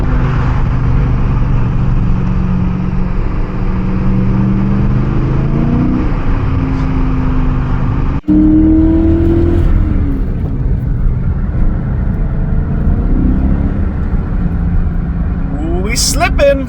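A BMW M5 with a 5.0L V8 and six-speed, needing work, accelerates from inside the cabin, its engine rising through the revs in strong pulls with a shift midway, loud and continuous.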